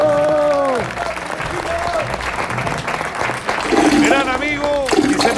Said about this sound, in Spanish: Un aplauso bien grande para el tremendo Chino.